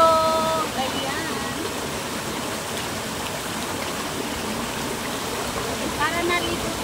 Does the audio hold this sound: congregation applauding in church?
no